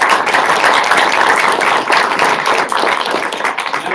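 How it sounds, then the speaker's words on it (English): Audience applause for three panelists closing a seminar panel discussion, dense steady clapping that fills the room and trails off slightly near the end. "Let's give them another round of applause"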